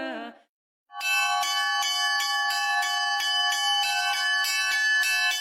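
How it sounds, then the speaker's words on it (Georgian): Festive monastery bell ringing at dawn for Christmas, struck in a steady rapid rhythm with bright, sustained overlapping tones; it starts after a brief pause following a short vocal sound and rings loud and continuous throughout. "გამთენიისას, როდესაც ირგვლივ სრული სიჩუმეა, მონასტერში საზეიმო ზარი ირეგება."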